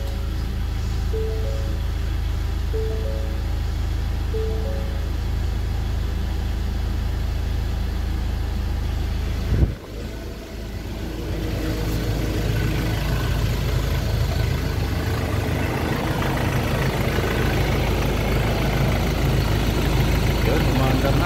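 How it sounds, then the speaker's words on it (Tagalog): A Ford Everest SUV engine idles with a low, steady hum throughout, with a few chiming beeps early on; after a thump midway, the rumble grows fuller and continues steadily. "So, okay naman yung tunog ng kanyang makina."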